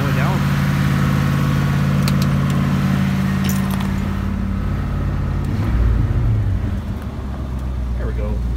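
A first-generation Dodge parts truck on 35-inch tires starts up and settles into a steady, rumbling idle, with a metallic jangle of keys near the start and a voice speaking over the engine.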